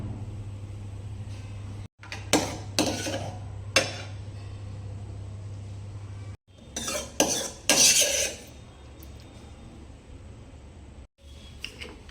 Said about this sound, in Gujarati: આ રીતે ચમચાની મદદથી ખૂબ જ સહેલાઈથી આપણે ભરી શકીએ છીએ.